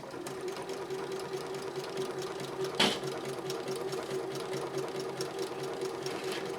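A Janome 3160 QDC sewing machine runs a steady stretch of stitching, its even mechanical whir continuous and close throughout, broken once by a brief sharp click partway through.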